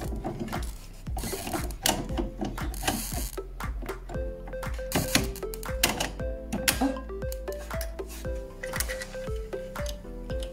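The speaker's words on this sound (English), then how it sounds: "We will attach this to the 3D printer right now." Part being attached to a da Vinci Mini W+ 3D printer: a close run of sharp plastic clicks, taps and mechanical clatter in an irregular rhythm, with no talking.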